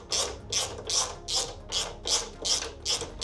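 A ratchet wrench tightens bolts on the lowered rear suspension of a Harley-Davidson Forty-Eight, in about nine brisk clicking bursts at a steady rhythm, close and clear with no talk.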